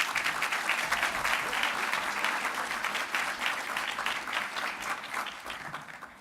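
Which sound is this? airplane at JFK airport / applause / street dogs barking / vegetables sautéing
applause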